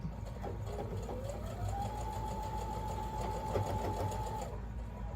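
A sewing machine stitches quilt block pieces for a sampler block, a continuous close mechanical whirr with a rising motor tone that stays fairly quiet throughout.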